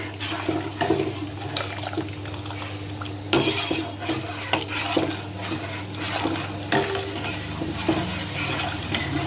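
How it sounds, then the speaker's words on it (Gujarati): A spoon keeps stirring custard powder and milk in a pot, scraping and clinking against the metal in irregular knocks over a low steady hum, close and quiet, with no talking. "આને હવે સતત હલાવતા રહેવાનું, જેથી નીચે કસ્ટર્ડ પાવડર અને દૂધ ચોંટે નહીં"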